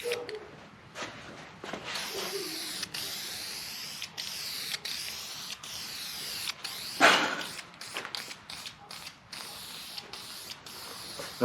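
Light coats of spray paint hissing from an aerosol can onto a Chevy OBS truck seat frame being cut down for a square body C10, in bursts with short gaps and a louder blast midway, close and with no talking.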